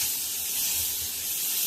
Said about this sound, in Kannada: ಈಗ ಸ್ವಲ್ಪ ಬಟರ್ ಹಾಕೊಳ್ತಾ ಇದ್ದೀನಿ.